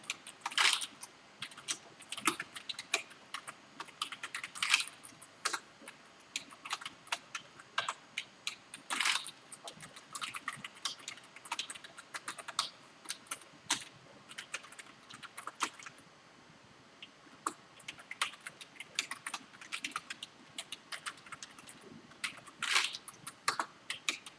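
Steady computer keyboard typing, bursts of quick clicking keystrokes with short pauses, close and fairly quiet, no voices.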